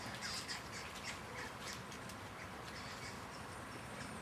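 Squirrels in a cemetery chatter and squawk in quick, scratchy bursts, faint and somewhat distant over a steady outdoor hiss, with no one talking.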